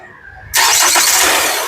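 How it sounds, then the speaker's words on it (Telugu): A 2019 Hyundai Creta SX Plus AMT engine cranks briefly and catches on a single start, then roars up loudly and keeps running close by after a quiet moment. "ఒకసారి ఇంజన్ స్టార్ట్ చేయి"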